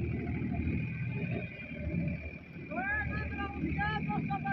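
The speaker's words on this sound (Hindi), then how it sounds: "कैसा चल रहा ट्रैक्टर" A farm tractor engine rumbles steadily outdoors in low, throbbing tones, with wind buffeting the microphone. Voices are heard partway through.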